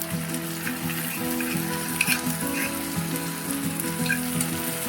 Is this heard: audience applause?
no